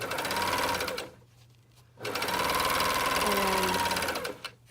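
Sewing machine running fast to stitch the gusset seam of a pair of tights, two loud bursts of steady motor whir separated by a brief quiet pause.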